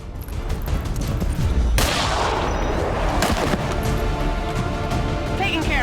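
Heavy weapon fire and a sharp crashing boom in the video game XCOM 2, including a pistol shot, with a loud, sustained rumble of combat carrying on afterward.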